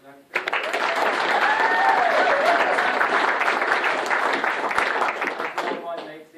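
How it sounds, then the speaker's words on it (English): Wedding guests give a round of applause for the bridesmaids and friends, dense steady clapping that swells in, holds loud for several seconds with a few whoops and voices mixed in, then tapers off. "always being there for Beck, so a round of applause for them."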